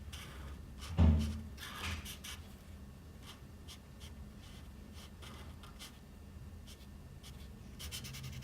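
Colored pencil rubs steadily across paper while the leaves of a jungle umbrella drawing are shaded in grass green. The strokes are close and soft, in quick repeated scratchy bursts, with one louder bump near the start.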